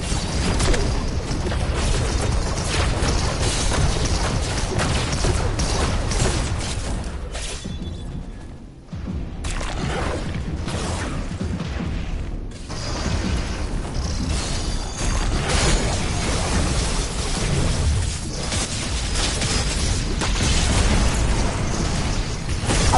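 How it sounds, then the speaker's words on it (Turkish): Loud, dense Fortnite game action with a gas canister exploding, continuous rumble and clatter throughout, briefly dipping before resuming at full intensity. "Benzin bidonu kafamda patladı."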